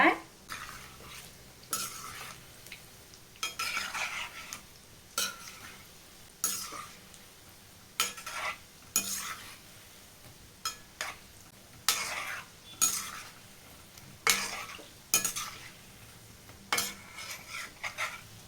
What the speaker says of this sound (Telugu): వీటిని ఆయిల్లో వేసాక లో ఫ్లేమ్లోనే ఫ్రై చేసుకోవాలి